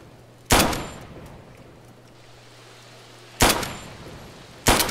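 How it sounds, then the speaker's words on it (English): Three sharp, loud pistol-like gunshots ring out at uneven intervals in ARMA 3's Dead Zone zombie mod, each a hard crack with a short decay over a quiet background hum. "Let's shoot some zombies."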